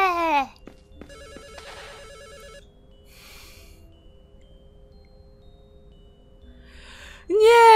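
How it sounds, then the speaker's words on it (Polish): A telephone rings in the video game Misao, a short burst of electronic ringing over a low background hum, framed by bright, rising synthetic game tones at the start and end. "przestraszył dzwoniący telefon"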